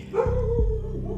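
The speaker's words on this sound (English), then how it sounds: "as you can hear my dog is barking outside." A dog barks outside at midnight, a single fairly close woof or yip rising over a low steady background hum, with no talking.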